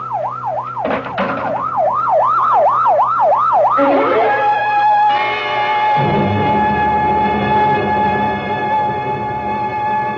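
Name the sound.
ambulance siren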